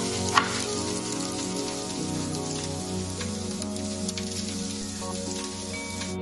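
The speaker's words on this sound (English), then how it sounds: "we're going to go ahead and pan fry them as well, frying them in some butter and onions" Boiled food pan frying in butter and onions, a close, steady crackling sizzle with spitting pops and a few brief clinks over the pan, no voices.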